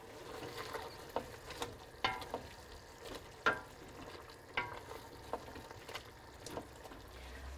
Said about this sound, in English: I'm just going to sprinkle over all of my spices and the fennel seeds and let them cook for 1 to 2 minutes